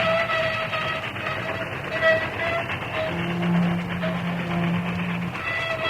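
Radio-drama train sound effect of a locomotive braking toward a gorge edge: a steady rumbling roll with tonal horn-like hums, loud and continuous throughout, no voices.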